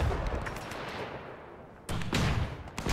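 World War One gunfire in the strategy game Between Empires: a loud burst of rifle shots that fades into a decaying rumble, then a second heavy volley of cracks near the end.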